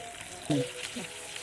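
Fish frying in a pan in a home kitchen, a soft steady sizzle with a brief louder burst of spattering midway and a short voice sound over it.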